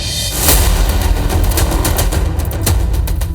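Gunfire rings out in Chhatarpur, Madhya Pradesh, during a clash between two groups over illegal liquor in front of police: several sharp reports cut through a loud, noisy background.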